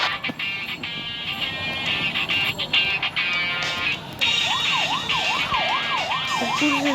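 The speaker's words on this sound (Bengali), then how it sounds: "পুলিশের গাড়ি" A police car siren in a video game wails in loud rising and falling sweeps over a constant engine-like background, growing clearer in the second half.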